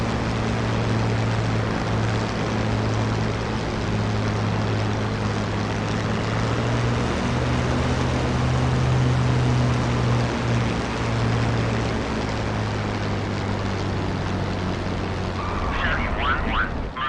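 A propeller airplane taxiing toward the runway in a flight simulator game, with a steady, loud engine drone and a constant propeller hum that holds throughout, while a voice talks over it.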